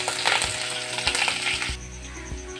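Chillies hit a sizzling tadka of garlic and hing in hot oil for dal, giving a bright, close crackle with a couple of metallic clinks. The frying then quiets to a softer hiss, and no voices are heard.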